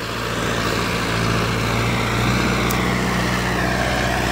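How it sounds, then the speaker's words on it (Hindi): A Sonalika tractor engine runs on a road, giving a loud, steady droning rumble with a constant low hum that holds for the whole stretch without pause. "और साउंड सुनिए आप, बहुत ही भयंकर साउंड है ट्रैक्टर का।"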